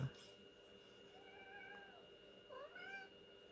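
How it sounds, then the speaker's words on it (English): A cat meows twice, drawn-out and rising, at moderate distance over a quiet room hum. "she'll probably meow back"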